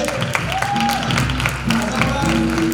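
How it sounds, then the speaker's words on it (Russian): An audience applauds at an annual theatre award ceremony for young actors and actresses, a steady, dense patter of clapping over background music and voices. "Под ваши бурные аплодисменты"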